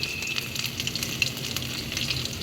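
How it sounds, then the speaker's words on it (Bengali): Chicken pieces fry in hot oil with a steady, close, dense sizzle and crackle throughout, and no voices. "চিকেন ফ্রাইগুলো ফ্রাই হয়ে গেছে"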